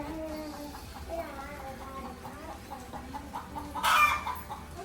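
Hens cluck steadily in a low, busy chatter, with a brief louder squawk near the end over faint background noise.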